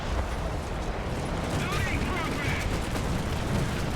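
Tank cannon and gunfire in War Thunder, around a T-80 light tank, rumbling and booming steadily at close range as a heavy layer of battle noise fills the whole stretch.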